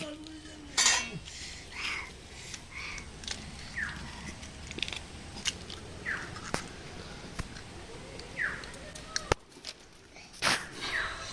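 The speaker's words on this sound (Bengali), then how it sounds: "সামান্য লবণ দিয়ে ডিমটাকে এবার আমি ফেটে নিলাম।" Eggs beaten with a little salt in a bowl for a Bengali egg and bottle gourd dish: repeated clinking taps of a utensil against the bowl in short bursts, close and moderately loud, with kitchen noise between and no speech.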